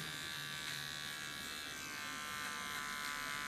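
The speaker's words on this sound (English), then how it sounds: "Contour with a small clipper." A small electric hair clipper buzzes continuously while contouring a short haircut, a steady close hum with even loudness and no talking over it.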